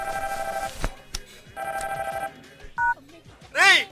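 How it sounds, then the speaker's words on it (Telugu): A telephone rings indoors with repeated electronic ring bursts separated by short pauses, loud and close, with brief speech and a sliding tone near the end. "ఫోన్ రింగ్ అవుతోంది."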